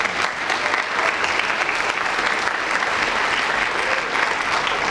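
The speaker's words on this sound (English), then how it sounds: "if you wouldn't mind giving those folks a round of applause for this" Audience applause at a college speech night, a dense, even wash of many hands clapping at full strength throughout with no break.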